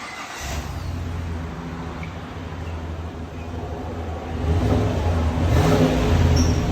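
A 2021 GMC Sierra 3500 HD with a 6.6L gas V8 and a Vibrant street power muffler rumbles at a fairly quiet idle, then revs up and holds a louder, deeper drone toward the end.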